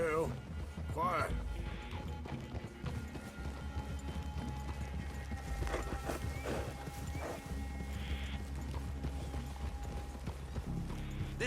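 Horses clip-clop in a steady rhythm in the Red Dead Redemption 2 video game, mixed with creaking tack and mechanical clatter over a continuous low outdoor rumble, with a brief whinny-like cry near the start.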